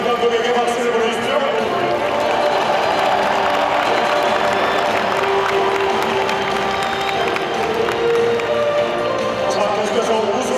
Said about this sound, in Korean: 박수를 보내주십시오